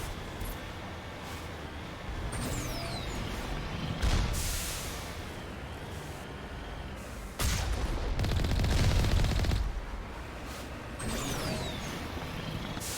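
Turret gunfire in the video game Mass Effect Legendary Edition, heard as rapid bursts of shots that come and go at moderate loudness, with no speech.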